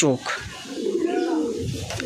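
A pigeon coos close by in a low, throaty burble, with a person's voice talking over it.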